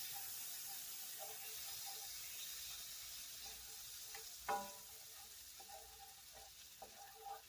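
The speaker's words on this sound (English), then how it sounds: "So I'm going to start by putting my butter in my skillet." Butter sizzles in a hot skillet on a home stove, a soft continuous hiss and crackle held at low volume, with a brief clatter of a utensil against the pan midway through.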